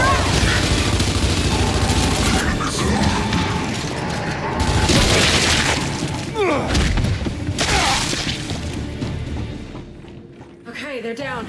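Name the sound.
frag grenade explosion in a video game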